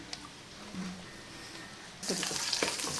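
Cashews fry in ghee in a pan on a low stove flame, giving a faint sizzle that suddenly swells into a louder, bright, hissing crackle partway through.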